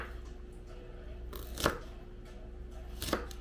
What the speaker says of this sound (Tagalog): Gagayatin po natin siya ng dice.